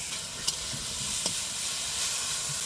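Half-boiled broccoli fries lightly in hot oil, giving a steady, soft, close sizzle and hiss with a couple of faint stirring clicks, and no talking.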